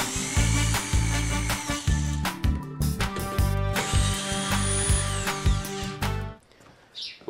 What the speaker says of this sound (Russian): Следующее, что нужно сделать, это открутить два шурупа крепления верхней крышки.